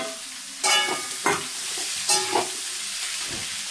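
Vegetables, including capsicum, fry in a wok for veg chowmein, with a low steady sizzle broken by several bursts of louder crackling as they are tossed and stirred.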